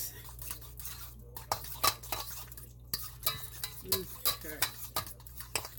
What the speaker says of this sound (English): mix your ricotta cheese together really, really, really good, like so